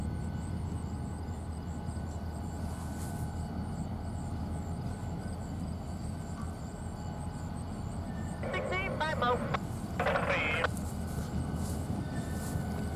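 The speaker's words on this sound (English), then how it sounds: "There's the tail end of the train right there." A CN freight train rolls past with a steady, loud rumble of wagons, and a few high metallic squeals of wheels or brakes near the end.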